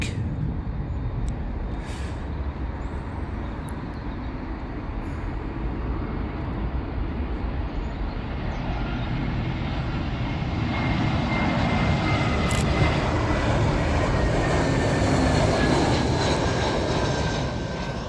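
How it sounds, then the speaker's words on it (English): A British Airways Airbus A320 arriving from Munich on approach to Heathrow's runway 27L, its steady jet roar building gradually and peaking loud near the end as it passes close overhead, with no voices. "another A320 from British Airways, and this one is from Munich"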